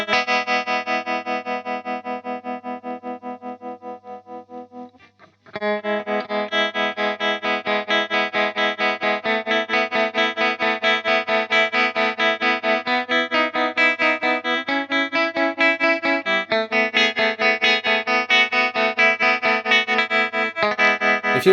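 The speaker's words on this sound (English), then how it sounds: "they have this very choppy tremolo, which sounds really cool" Electric guitar riff through a JHS 3 Series Harmonic Trem pedal set to full depth, its choppy tremolo pulsing rapidly and evenly across sustained chords, loud and close with one brief break near the start and no talk.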